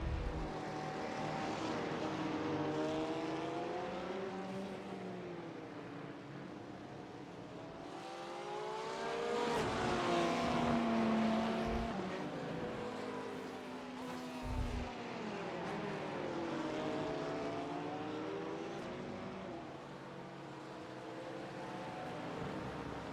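Race cars lapping Mid-Ohio in iRacing, engines rising and falling in pitch through gear changes as they power down the back straightaway toward turn 4, a loud continuous drone with brief downshift blips and no talk.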